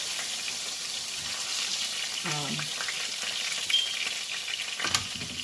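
Chicken frying in a wok for a low-carb mozzarella chicken dish gives a steady close sizzle throughout, with a brief stirring scrape and a couple of sharper crackles standing out.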